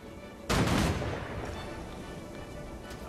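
A single loud gunshot blast rings out during militia training at Claypool in Guild Wars 2, with a booming echo that fades slowly over the next few seconds and no talk.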